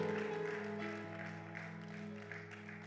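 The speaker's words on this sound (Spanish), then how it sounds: "Denle un aplauso fuerte a Él." A church congregation applauds softly at a service, the faint scattered claps sitting under steady, sustained keyboard-like music tones throughout.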